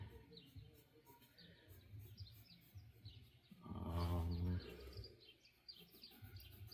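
Small birds tweet outside in quick repeated calls, faint and distant, while a louder low rumbling burst swells briefly in the middle and then fades.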